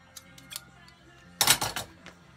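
Scissors snip through shoe sole material during a Cole-Haan shoe restoration, a few light cuts followed by a louder close burst of quick snipping, with no talk.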